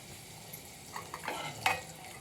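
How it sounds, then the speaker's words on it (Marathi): A pinch of asafoetida hits hot oil in a pan, giving a faint sizzle punctuated by a few light clinks and a sharper spoon-against-pan tap near the end, with no voices. "तेल तापलेलं आहे तेल तापलेलं आहे थोडा हिंग टाकते"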